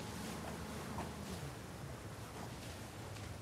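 Boat driving across water in Uncharted 4, a steady rushing wash of waves and wind noise with a low engine hum, faint and continuous.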